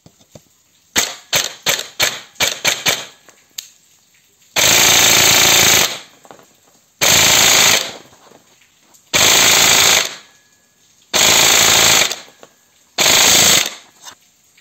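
A G&G airsoft gun fires on full auto, first in several short rapid bursts, then in five long sustained bursts of rapid fire separated by brief pauses, loud and close.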